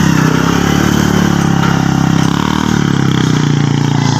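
A vehicle carrying goats strains up the steep road on Mt. Samat in Bataan, its mid-pitched engine droning steadily and loudly throughout with no talk over it.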